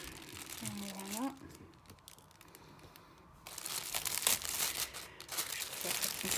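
Plastic packaging crinkling and rustling as an AliExpress parcel containing a snowman item is opened, in irregular close crackling bursts, quieter in the middle and busier toward the end, with a voice in the first part.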